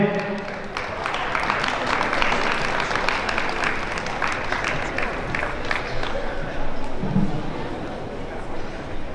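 An audience claps in dense, sustained applause, with crowd noise, during a ProAm Latin dance competition at the Minsk Open Dance Festival 2019.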